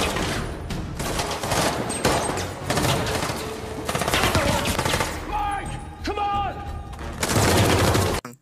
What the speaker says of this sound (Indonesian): Adu tembak pun terjadi lagi.